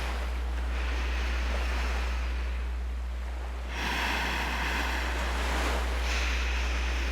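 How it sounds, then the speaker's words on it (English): Continuous ocean surf washes in and out with a soft roar, swelling midway, blended with wind noise and no talking. "the ebb and flow of the waves, the distant cries of seagulls"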